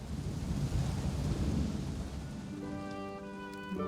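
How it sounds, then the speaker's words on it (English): A thunderstorm effect rolls with dense low rumbling thunder and rain hiss, fading into a held musical tone toward the end. "Outside, the storm raged on."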